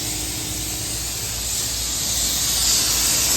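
Nissan XL clear coat being sprayed from a paint gun onto a 1965 C30 dually truck, a continuous close, even hiss that holds steady and swells slightly toward the end, with no voices.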